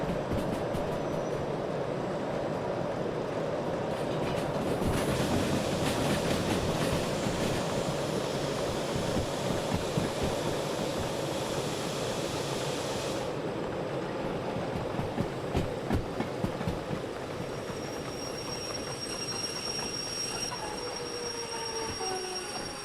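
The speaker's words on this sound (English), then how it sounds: "Let's slow the train down." A train in the Derail Valley simulator game braking on approach to a factory, a steady rumble of wheels on rails with squealing brakes and clanking wagons, slowing over the course of the clip.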